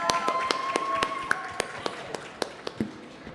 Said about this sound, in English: Everyone give a round of applause for Zaya.